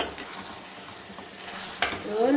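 Chicken stirred with turmeric in a pan at home, a spoon scraping and clinking against the metal with a soft sizzle, ending in a sharper clatter and rising hiss near the end.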